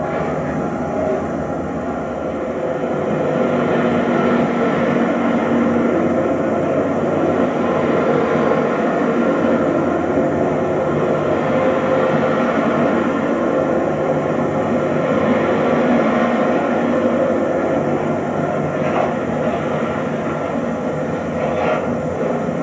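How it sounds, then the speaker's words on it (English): A BNSF Ice Cold Express Roadrailer train rolls past in Galesburg, Illinois in autumn, a long steady rumble and rush of wheels and cars, heard continuously at moderate distance with little change. "Here are one of those trains in Galesburg, Illinois in the autumn of 1999."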